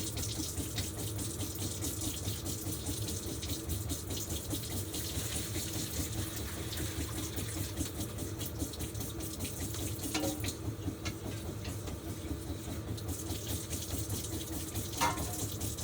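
Cold tap water runs steadily into a bowl in a home kitchen, a continuous splashing rush at moderate loudness with no talk, the flow ending with a small drip or clink near the close.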